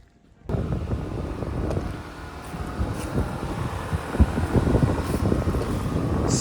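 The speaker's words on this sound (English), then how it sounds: "I want to go ahead and show you guys a cold start and what the car sounds like now" A B8 Audi A4 fitted with a CTS turbo cold air intake fires up from cold, then settles into a steady, rumbling idle with airy intake whoosh that grows slightly louder toward the end; no one speaks.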